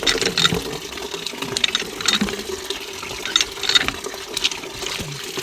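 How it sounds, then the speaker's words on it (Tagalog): Strong spring-fed water flow pouring from a pump hose, a continuous splashing rush with irregular surges, heard alone without talk. "Lakas ng tubig."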